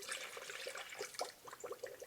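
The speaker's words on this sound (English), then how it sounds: "gonna pour some water in." Water poured through a no-spill coolant funnel into a car radiator, a faint gurgling trickle with small splashes and bubbling pulses, close by.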